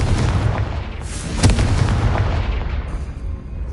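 Spell blasts in the video game Hogwarts Legacy roll out as loud, continuous booming explosions with heavy low rumble, one sharper burst standing out partway through before the noise fades slightly.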